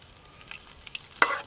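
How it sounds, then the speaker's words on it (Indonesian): Pandan leaves dropped into hot oil in a home kitchen, a soft crackling sizzle with scattered pops and one sharper burst near the end, close and fairly quiet. "Minyak dah panas, masukkan daun pandan."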